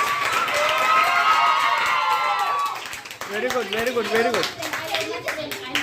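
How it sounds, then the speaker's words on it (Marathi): Children clap in a classroom as a dense burst of claps with some cheering fills the first half, then it thins out while an adult voice speaks over it. "अरे जरा मुलांसाठी टाळ्या वाजवा"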